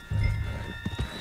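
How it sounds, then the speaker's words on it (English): Horse galloping in the Red Dead Redemption 2 video game, a quick run of dull, close hoofbeat thuds over a steady low rumble, with faint tonal game ambience above. "Put Strauss on the back of John's horse and let's get out of here."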